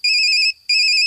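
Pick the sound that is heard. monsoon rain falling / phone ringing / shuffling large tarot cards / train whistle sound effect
phone ringing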